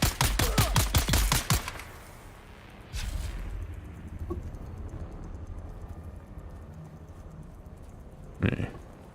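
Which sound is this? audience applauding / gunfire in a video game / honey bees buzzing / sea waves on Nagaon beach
gunfire in a video game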